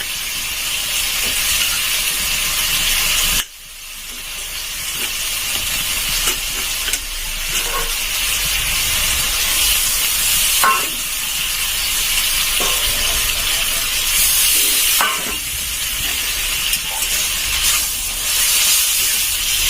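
Cauliflower stalks frying in a pan on a home stove, a constant loud hissing sizzle punctuated by occasional scraping knocks of a spatula stirring them.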